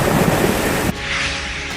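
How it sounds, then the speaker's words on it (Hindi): Heavy rain pours steadily during Cyclone Biparjoy in Rajasthan, a loud, dense rushing wash that cuts off abruptly partway through and leaves a quieter, thinner hiss behind. "कई जिलों में भारी बारिश हो रही है।"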